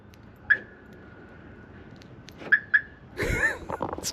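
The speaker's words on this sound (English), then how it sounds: "It's got like a old school Viper alarm or something." A few sharp electronic chirps from an old Viper car alarm remote, one then a quick pair, followed by a louder burst, in a quiet setting.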